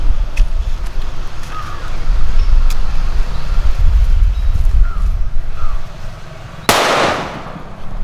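A single sharp, loud bang from a large six-inch country-made firecracker near the end, cutting through steady outdoor background rumble with a few faint distant sounds earlier.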